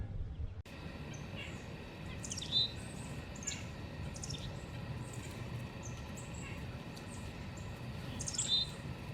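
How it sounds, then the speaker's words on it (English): Small birds feeding outdoors at a nature center give a few brief, faint chirps over a steady low rumble of ambient noise, with sparse calls scattered through. "So I'm gonna see if I can take a picture of these birds up here feeding."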